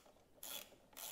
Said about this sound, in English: I'm gonna take my extra small ratchet with an 8mm and attack these two screws.